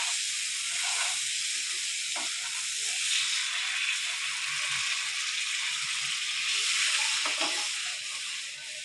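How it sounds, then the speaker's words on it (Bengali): Water poured into a sizzling, fried spice paste for a pabda fish mustard curry, giving a steady broad hiss and sizzle that runs close and fairly loud throughout, with no talking. "এখন আমি একটু পরিমাণ মতন জল দিয়ে দেবো"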